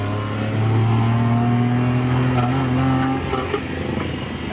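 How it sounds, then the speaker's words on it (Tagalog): A Suzuki DA63 mini truck engine with a check-engine fault revs hard, its droning tone wavering and sagging as it stutters, then drops off as if close to stalling; loud and close. "Dinig nyo naman na parang natukan yung engine. Parang mag-shut off siya."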